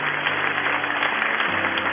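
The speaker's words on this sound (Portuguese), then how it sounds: "Um demorado aplauso ao Deus das excelências" A church congregation applauding during a sermon service, a dense, steady wash of clapping that fills the clip at an even level with no voices on top.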